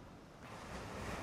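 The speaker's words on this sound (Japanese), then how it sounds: "波が荒れている。" Rough sea surf breaking on a seashore, a steady broadband wash that swells gradually louder over its short span, with wind noise buffeting the microphone and no voices.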